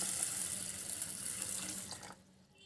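Tap water runs steadily into a bowl of cleaned mixed lentils to soak them, a close continuous splashing stream that stops abruptly near the end.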